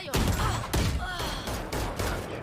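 Gunfire in the Valorant shooter game comes as a series of loud, close, punchy shots in quick bursts about half a second apart, each with a short ringing tail, and no speech over it.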